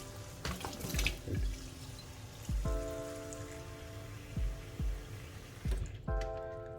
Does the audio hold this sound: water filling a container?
yes